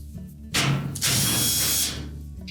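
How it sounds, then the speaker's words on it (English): A power drill spins out quarter-inch hex head screws from the back panel of a dryer, two close, loud whirring bursts with a short pause between them. "You simply remove all of the screws."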